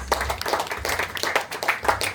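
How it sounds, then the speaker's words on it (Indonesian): A church congregation at an evening fellowship service in Papua claps together in praise, a burst of rhythmic hand claps with some voices underneath, lasting only a couple of seconds. "Tepuk tangan buat Tuhan."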